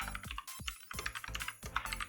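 Computer keyboard typing in quick bursts of crisp clicking keystrokes, close-miked and alone, with short pauses between clusters of presses.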